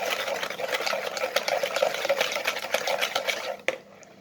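Cake batter mixed with baking powder is stirred by hand in a bowl, giving a close, continuous wet scraping and swishing that stops abruptly near the end.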